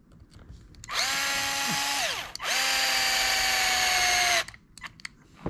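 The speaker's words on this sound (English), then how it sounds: "when I use my drill here, I like to put it in the lowest setting" A power drill on its lowest setting whirs in two sustained bursts of about one and a half and two seconds, driving a screw into plastic, separated by a short pause, close and loud, with no talking.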